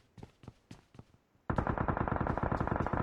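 Gunfire in the mobile game PUBG Mobile: a few spaced single shots, then a sudden loud stretch of rapid automatic fire that continues to the end.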